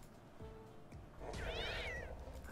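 A cartoonish cat meow rings out from the Mighty Masks slot video game, a single drawn-out, wavering mew over a soft electronic game backdrop with light chimes before it.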